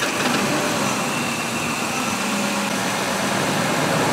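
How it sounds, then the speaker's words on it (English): A car or truck engine idles steadily after being started, tested for a vacuum leak; a continuous, even mid-range rumble runs loud and close throughout with no talking. "So I have to start the vehicle up."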